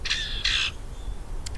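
Outdoors in blowing wind, a bird gives two harsh, crow-like calls over a steady low rumble of wind noise, with a brief faint sound near the end.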